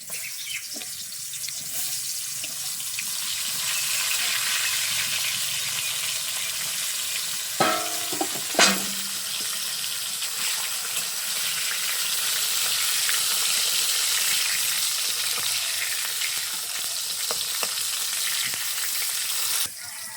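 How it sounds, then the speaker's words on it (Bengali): Pointed gourd fries in hot oil with a steady, close sizzle and crackle, broken by a couple of brief clinks of a utensil, with no talking. "পটল ভেজে নেব, তেল গরম হয়ে গেছে"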